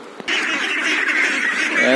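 A dense, continuous chorus of two-month-old ducklings peeping and honking together, fairly close and steady throughout, with no talking.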